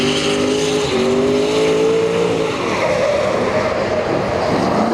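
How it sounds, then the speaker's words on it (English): A V8 LS-powered Nissan 240SX drifts at a grassroots event, its engine roaring loud and steady, the pitch rising and then breaking into rough, raspy revving as the car slides, with no talk over it. "Here we got a rear-wheel drive Nissan with a V8"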